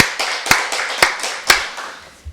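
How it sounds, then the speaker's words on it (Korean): Church congregation clapping in rhythm during a worship service, steady even beats about every quarter second, close and fairly loud, fading off at the end. "우리 박수를 하나님께 영광 드리겠습니다"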